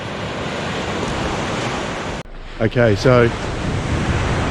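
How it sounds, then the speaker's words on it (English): Ocean waves crashing on a shore on the east coast of Tasmania give a loud, continuous roar of surf, then cut off abruptly to a quieter scene where a person speaks briefly. "It's one of my favourite natural sounds. Waves crashing."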